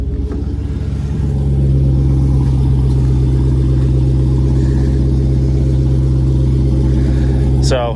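A Dodge Demon's engine runs outside the shop, a loud steady low rumble that settles into a constant idle after a brief rise near the start.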